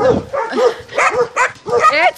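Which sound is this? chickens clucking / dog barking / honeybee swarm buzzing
dog barking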